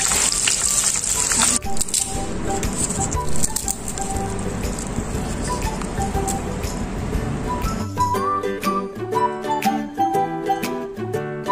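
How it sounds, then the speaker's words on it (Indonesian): Fish fries in hot oil until golden brown, a loud close crackle and sizzle running for about eight seconds before it gives way to music. "Digoreng sampai kecoklat-coklatan gitu."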